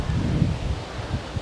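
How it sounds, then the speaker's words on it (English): Strong wind blows outdoors during a Renault Megane I engine oil change, giving a brief, loud, low rumble of gusts buffeting the microphone. "so it's pretty windy"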